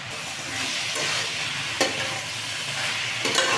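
Watermelon peel, seasoned with cumin powder and salt, sizzles steadily in a pan while being stirred, with a couple of brief scraping clinks of the spatula over the continuous loud frying hiss.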